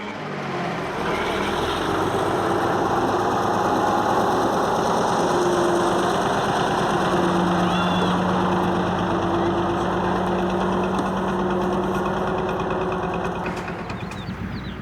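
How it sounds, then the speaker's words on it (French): A truck's engine runs steadily on a bush track in Mali, carrying passengers along a smugglers' route toward Senegal; a continuous, fairly loud mechanical drone fills the whole stretch without pause. "le moteur doit tourner et aucun voyageur ne doit tomber du camion"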